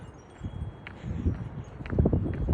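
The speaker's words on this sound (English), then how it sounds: "This is the wind, guys." Strong gusts during a high wind storm in Lewis Center, Ohio, rumbling as low wind noise against the microphone and swelling in strength toward the end, with faint rustling and no talking.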